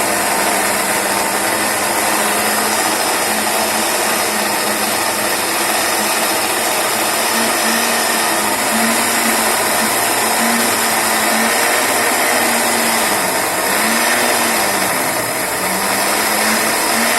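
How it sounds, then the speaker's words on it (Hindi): An electric grinder runs continuously, grinding garlic into paste, with a loud, steady whirring motor hum that holds for the whole stretch with slight pitch wobbles. "पहले लहसुन को हम कर लेते हैं। ठीक है, इसको ग्राइंड करना है।"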